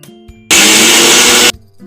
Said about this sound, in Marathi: थंड झाले की फुटाणे आणि जिरं मिक्सरमधून त्याची पावडर करून घ्यायची